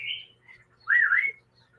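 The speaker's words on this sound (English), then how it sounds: "Do you hear my bird?" A pet bird gives a short whistled chirp, then after a brief pause a louder, sweeping warbled call, close by in a quiet indoor room with no talking.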